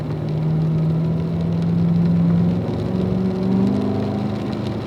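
A car accelerating out of a corner on a race track in pouring rain, its engine a steady, loud droning whir with rising pitch heard from inside, wet road noise underneath.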